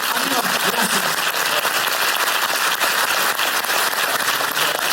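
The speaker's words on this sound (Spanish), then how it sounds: "Fuerte aplauso para el pedido de amigos" Loud, dense applause fills the room at a live episode, steady clapping that continues unbroken for several seconds.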